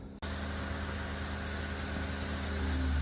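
Cicadas drone loudly and continuously in a summer garden with an avocado tree, the buzzing swelling into a fast, pulsing rhythm after a brief cut at the start.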